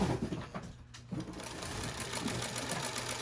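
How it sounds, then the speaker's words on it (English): A sewing machine runs a 1/8-inch top-stitched seam along the top of an in-the-hoop bag, a rapid, steady close-up chatter that pauses briefly near the start and then continues evenly. "we're just gonna run a seam along the top about 1/8 of an inch"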